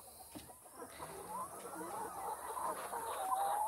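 Hens clucking softly on a farm during a sunny sand bath, a scattered run of quiet clucks and murmurs at close range with no talk.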